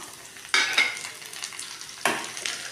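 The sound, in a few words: adding sliced tomato to frying onions, sizzling and stirring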